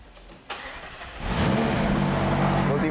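A 3.8-litre twin-turbo V8 car engine starts with a sharp click, then catches and settles into a loud, rising revving roar that holds steady until the end.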